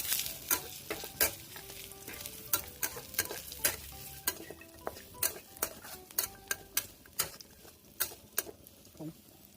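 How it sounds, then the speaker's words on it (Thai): Crispy pork, 300 g, is stir-fried with garlic in a pan, giving a soft sizzle under a quick run of sharp, rhythmic spatula taps and scrapes against the metal, close and fairly quiet, with no talking. "แอจะใส่เป็นหมูกรอบ 300 กรัมนะครับผัดส่วนผสมให้เข้ากันเลยครับ"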